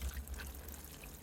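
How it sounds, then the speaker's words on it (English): Rainwater trickles and splashes softly from a watering can onto garden soil planted with onion sets, faint over a low background hum. "So water it down well"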